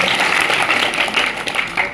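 Loud, sustained applause at a farewell party at a government senior secondary school in Thaladka, Nohar, Hanumangarh, welcoming the principal; dense clapping continues steadily throughout with no break.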